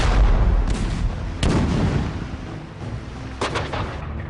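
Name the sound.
British artillery barrage, cannon fire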